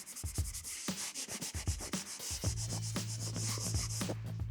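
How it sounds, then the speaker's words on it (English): Sanding paper rubs back and forth over a patched area of wall where peel-and-stick wallpaper was removed, in steady close strokes, with a low hum rising beneath the scraping in the second half. "We kind of want to sand like around the outside, and this just allows for just a nice even sand."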